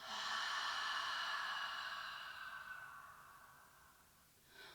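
A long, slow exhale during a breathing exercise, a close, breathy rush of air that fades over several seconds, followed by the start of another breath, with no talk.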